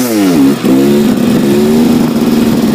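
A ZM Tracer 300 2T two-stroke motorcycle engine revs hard in third gear at low speed, a loud, close, sustained whine that dips briefly then climbs and holds steady, with no voices.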